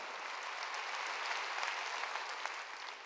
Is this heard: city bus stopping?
no